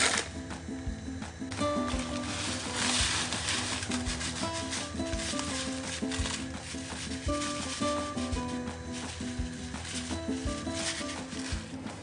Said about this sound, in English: Now we're just gonna dry fry them until they're nice and brown.